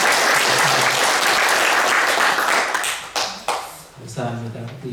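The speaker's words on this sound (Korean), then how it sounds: "일어나시면 우리 환영의 박수 축복을 드리겠습니다." A church congregation at a Sunday service applauds to welcome newly registered members, with loud, sustained clapping for about three seconds that tapers off into a quieter room with a voice speaking.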